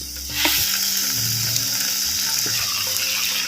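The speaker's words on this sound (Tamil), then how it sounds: "குடமிளகாயை அப்படியே எண்ணெயில் நல்லா வதக்கிக்கிட்டோம்" Capsicum sautéing in hot oil in a pan, a loud, steady sizzle close up with a faint clink of a utensil near the start.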